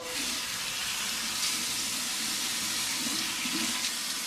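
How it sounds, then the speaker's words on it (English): A straight razor is rinsed under hot water running from a tap, giving a steady, close hiss of flowing water that carries on alone for several seconds. "Just run the razor under a little bit of hot water."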